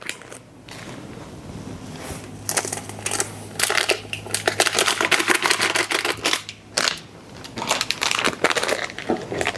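Bags of spices, including cumin, crinkled and dumped into large pots of big-batch chili, with loud close plastic crackling and rustling bursts in an irregular rhythm.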